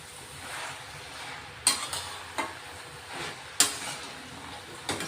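Fenugreek leaves sautéing in a full kadhai, stirred with a spatula: a soft steady sizzle with a few sharp scraping clicks of the utensil against the pan, close and fairly quiet, with no talking.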